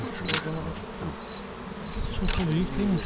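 A steady honey bee buzz hums through the whole clip, with a few louder passes drifting close and then away.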